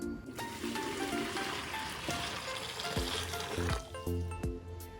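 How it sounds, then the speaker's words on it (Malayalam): Boiling water pours over clothes set out for fabric dyeing, giving a steady hissing, sizzling rush with splashy bubbling. It sounds close and fairly loud, with a few clinks near the end and no talk. "തിളച്ച വെള്ളമാണ് നമ്മളിതിനെ ഒഴിക്കണത്"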